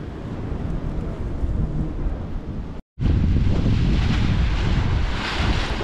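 Strong, cool wind off the sea on the Yalta embankment in Crimea buffets the microphone with a roaring rush, mixed with the wash of surf, broken by a brief silent gap before the gusts return.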